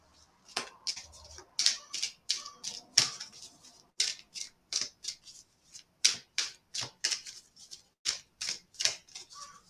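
Angel answer cards being shuffled by hand, a steady series of close, crisp riffling snaps and flicks in an irregular rhythm.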